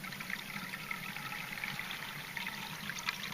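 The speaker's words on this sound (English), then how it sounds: "I could hear some water running. And look, underground spring." Underground spring water trickling steadily through a spruce forest, a soft continuous babble heard close by with no other sounds.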